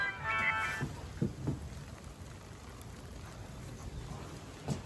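Steady rain patters down on a camper van in a soft, continuous hiss, with a few brief thumps near the start and no voices.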